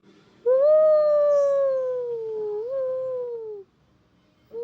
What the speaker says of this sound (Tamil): எங்கேயோ நரி ஊழையிடுது உங்களுக்கு கேட்குதுங்களா